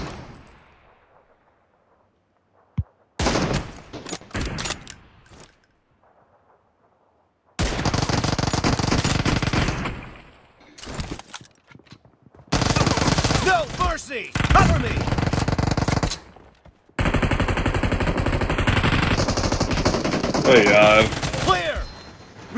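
Gunfire in PUBG Mobile, with UZI and M24 sniper weapons: loud bursts of rapid automatic shots come in several separate volleys, broken by short near-silent gaps.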